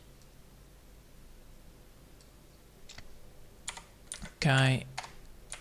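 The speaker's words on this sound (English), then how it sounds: "So now we need to just type in the word as well." Computer keyboard being typed on, faint scattered key clicks over a quiet background, building to a brief louder burst of clatter near the end, with a short spoken word.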